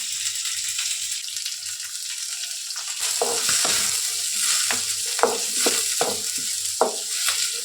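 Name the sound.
tempering curry leaves and mustard seeds frying in oil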